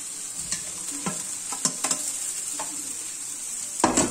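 Garlic sizzles steadily in a frying pan for fish fried rice, a dense hiss broken by several sharp scraping stirs of a utensil, close and loud with no talking.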